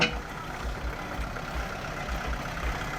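A farm tractor engine runs close by at a steady idle, its low, rhythmic thumping pulsing evenly with a rougher mechanical rattle above it and no talking.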